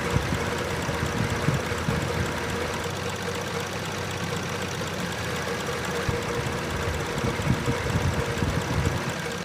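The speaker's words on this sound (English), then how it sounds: "the car has been on about 5 minutes now or so, and it is shaking on idle right now" Toyota Yaris engine idling roughly after a cold start, a steady close rumble with a faint uneven knock running throughout, shaking at idle with no talk.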